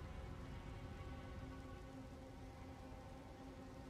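Steady rain falling in the video game Elden Ring, a constant even hiss of drops on surfaces with no speech.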